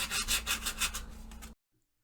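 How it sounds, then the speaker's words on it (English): 80 grit sandpaper rubs over a terracotta-finished candlestick in quick, rhythmic back-and-forth strokes, close and scratchy, then stops abruptly into silence. "and again I'm just using my 80 grit sandpaper"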